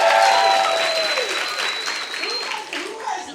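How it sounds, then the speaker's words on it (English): Festival audience clapping in a large crowd, loud at first and then gradually fading, with a sustained whistle-like tone over it and some voices and cheers mixed in. "by another round of applause, who was this?"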